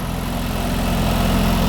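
A Mk2 Ford Escort engine running rich idles roughly and loudly up close, a steady low throbbing rumble with an uneven, sputtering pulse and no voices.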